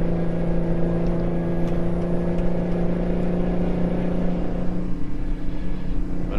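A Mack Superliner truck engine in American Truck Simulator drones steadily at cruising speed, hauling gas, with a constant low rumble and whirring hum throughout and no talk.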